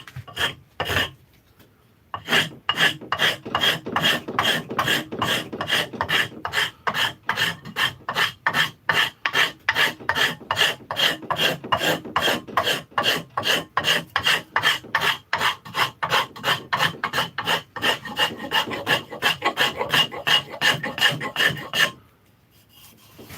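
Shinto rasp filing a wooden cobbler's hammer handle at the bench: steady, close back-and-forth rasping strokes in a fast, even rhythm, running continuously for about twenty seconds with no talk.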